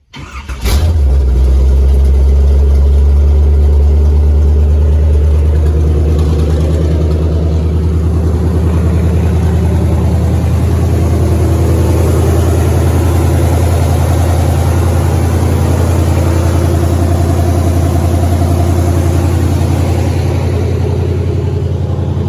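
A loud V8 engine in an S10 pickup, running open headers, fires up and settles into a deep, steady, rumbling idle that continues for a long stretch without talk.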